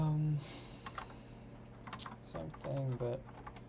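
Someone types on a new computer keyboard while coding, producing quick, light clicks scattered under talking, near but fairly soft.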